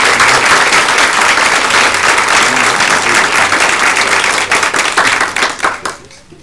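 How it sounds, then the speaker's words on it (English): An audience at a school board meeting breaks into loud, sustained applause, dense clapping from many hands that carries on evenly and then tapers off toward the end. "Let's give them a round of applause."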